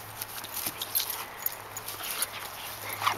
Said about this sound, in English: That's Molly's let's play bark